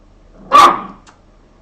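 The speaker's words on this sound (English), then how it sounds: "Don't bark at him." A single close, loud dog bark lasting about a third of a second, indoors at home, then quiet with a faint click or two afterward; no talking.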